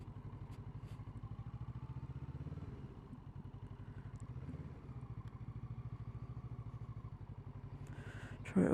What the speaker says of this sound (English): now I'm riding at a much lower speed